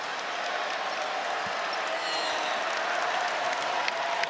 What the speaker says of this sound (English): This crowd is responding to a couple of fans on the video board.